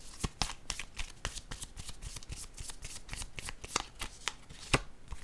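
Tarot cards being shuffled and drawn in a quiet room, a steady run of crisp riffling snaps and slaps close up, with no talking.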